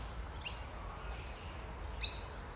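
Two short, bright bird chirps ring out about a second and a half apart, faint and fairly distant over a low, steady background rumble.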